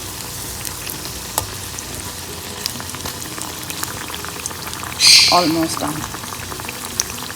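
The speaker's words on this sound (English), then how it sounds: "So turn them around so it's fried on both sides." Mung dal dumplings frying in a pan of oil, a steady bubbling sizzle running throughout with a brief louder hiss as they are turned, while a person speaks briefly.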